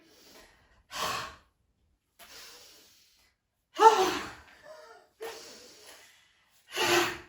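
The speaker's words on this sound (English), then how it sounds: "As you breathe out, air, so yeah, breathe out, taking all the air out." Several forceful breaths out during a spine mobility exercise, close and clearly audible, separated by silent pauses.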